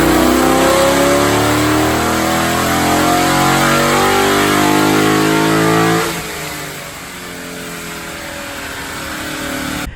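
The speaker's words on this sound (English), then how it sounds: "It's a 2019 wide body Challenger Scatpack, and it belongs to my buddy Peter." A 2019 wide body Dodge Challenger Scatpack engine roars loud and close, holding high revs for several seconds with a rising and falling pitch, then drops back to a lower, throaty rumble.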